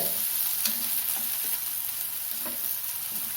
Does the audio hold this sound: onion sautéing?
yes